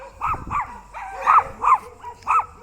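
A chihuahua barks sharply and repeatedly, high-pitched yaps in an uneven rhythm, fairly close and loud.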